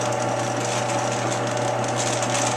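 A drill press, used for mixing hot process soap, hums steadily at close range with a constant motor drone and faint mechanical grinding, no voices.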